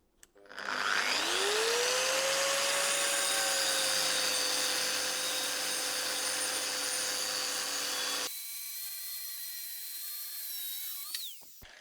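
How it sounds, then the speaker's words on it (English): A power tool cuts away an unneeded section of a metal light bracket while Auxbeam LED spotlights are fitted to a 2011 Range Rover L322. The tool winds up into a loud, steady whine that runs about ten seconds, then drops in pitch and stops. "also have to lop off this unneeded part of the bracket here"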